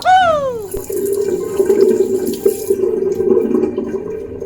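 Water runs steadily from a tap into a sink for face washing, a loud close rushing stream that starts after a brief squeaky handle sound and continues evenly.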